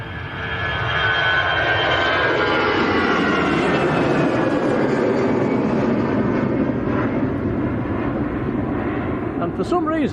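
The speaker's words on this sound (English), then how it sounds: "Okay, I think Tom's gonna let this EasyJet go" An EasyJet airliner departing Manchester Airport, a loud, continuous engine roar that swells and holds close by for the whole stretch, with voices talking over it.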